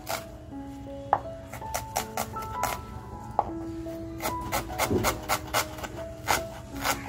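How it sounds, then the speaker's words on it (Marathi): A knife finely chopping onion on a board, heard as a string of quick, crisp taps in an uneven rhythm over a steady musical tone in the background. "कांदा बघा अगदी आपल्याला बारीक कापून घ्यायचंय"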